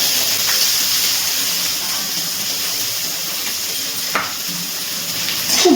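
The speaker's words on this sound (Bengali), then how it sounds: "খুব ভালো করে তেলের মধ্যে পেঁয়াজটা ভেজে নিচ্ছি।" Chopped onion frying in hot oil alongside green chilies, a steady loud hiss and sizzle with occasional small crackles, heard alone without talk.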